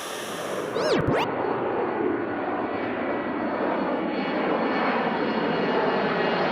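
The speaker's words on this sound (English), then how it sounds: "Airplane, a flying machine that takes people across the world." A fixed-wing airplane engine roars loud and steady, with a brief swooping whine as it passes close early on, then a sustained broadband drone for the rest of the clip.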